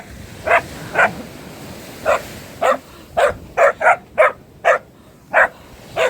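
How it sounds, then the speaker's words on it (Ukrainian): A dog outdoors in Odesa barks about a dozen times in short, evenly spaced yaps, fairly close and clear over faint background hiss, with no talking. "на мене гавкає"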